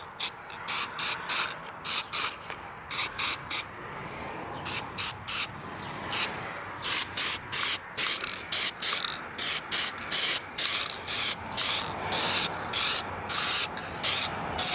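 Short bursts of aerosol spray paint hiss across a plastic truck grille in quick repeated passes, each blast about half a second with brief gaps, loud and close throughout.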